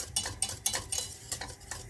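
Rhythmic scraping and clinking of a utensil stirring Yozgat-style arabaşı soup inside a pot, steady and close, with no voices.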